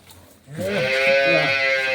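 A dairy cow of good breed on a farm gives one loud, drawn-out moo close by, starting abruptly after a short quiet moment and holding steady to the end.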